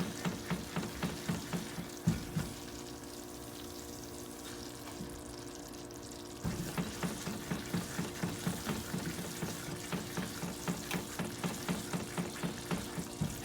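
Tomato paste and roux frying in a pan on high heat, stirred steadily, giving a close, continuous sizzle with regular scraping strokes throughout and a brief quieter stretch in the middle.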